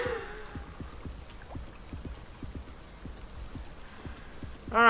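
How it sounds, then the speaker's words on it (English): Rain falling in the video game Rain World, a soft steady patter with scattered distinct drips and taps across the whole stretch, ending in a sudden louder burst of other game sound. "Guess it's the sound of the calming rain."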